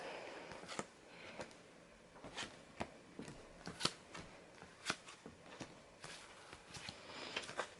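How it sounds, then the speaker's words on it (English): Tarot cards spread out across a surface for a reading, heard as a string of soft, close, irregular card slides and flicks with no talking. "let me just spread the cards a little bit for you"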